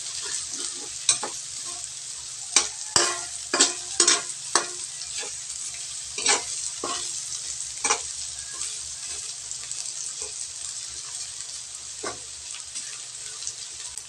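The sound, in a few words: tilapia frying and browning in a pan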